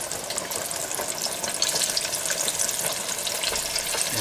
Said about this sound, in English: I'm just gonna bring it over, have them deep fry like that.